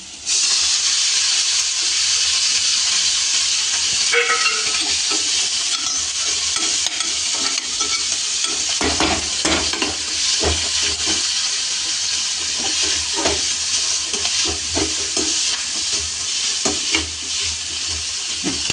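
Steady loud sizzling of onions tempering in hot oil, with occasional stirring scrapes and clatters, continuous throughout with no talking.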